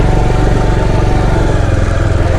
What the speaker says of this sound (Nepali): बाइक त चाहिँ कस्तो गना कराएको यार